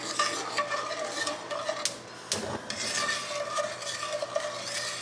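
A milk, cream and sugar mixture with stabilizers being stirred in a pot for vanilla ice cream, a steady close scraping and swishing that runs throughout with a couple of brief sharp knocks.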